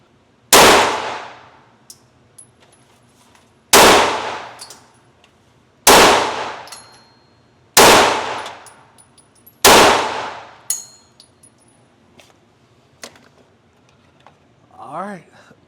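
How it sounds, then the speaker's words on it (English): Glock pistol shots fired at a center-mass target from 5 yards: five loud, sharp cracks spaced a couple of seconds apart, each ringing out briefly, with quiet gaps and a brief voice at the end. "we're trying to shoot for center mass, 5 yards, and we'll go from there"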